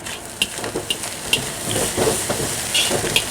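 Fried rice (nasi goreng) being stirred in a hot pan, with a steady sizzle and hiss under repeated scraping and clinking strokes of the utensil, close and moderately loud.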